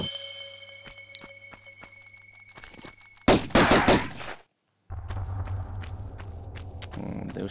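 Pistol shots from the 1996 video game Tomb Raider, sharp gunshots with thuds and footstep-like clatter between them, followed by a brief silence and then a low ambient drone.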